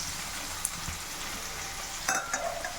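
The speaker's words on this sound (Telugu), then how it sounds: "మన ఎండుమిర్చి వేయించాక మిగిలిన ఆయిల్లో కట్ చేసుకున్న 4 టమాటాస్ వేసుకోవాలి" Cut tomatoes frying in oil left over from roasting dried red chillies for a sesame chilli pickle, a steady close hiss and crackle with a few louder spits near the end.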